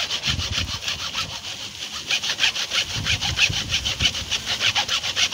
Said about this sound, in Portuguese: Aqui a gente vai serrar aqui, ó, pessoal.